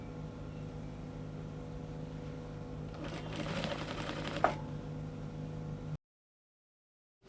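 A sewing machine runs steadily, stitching a flounce on a bubu garment, with a brief faster burst and a sharp click before the motor stops and the sound cuts to silence.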